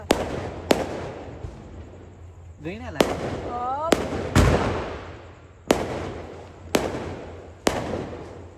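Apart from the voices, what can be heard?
Diwali firecrackers bursting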